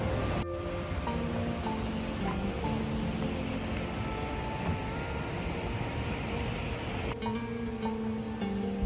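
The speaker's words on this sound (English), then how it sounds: "It's the sound of a waterfall." Toketee Falls, a two-tiered waterfall dropping through basalt columns in Umpqua National Forest, gives a constant broad rushing roar heard from the trail nearby, with faint tonal music layered over it.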